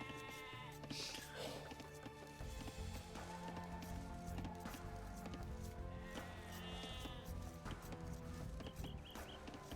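Sheep bleat repeatedly from the Age of Empires game, a Mongols versus Britons match, several short cries over steady in-game ambience and background music.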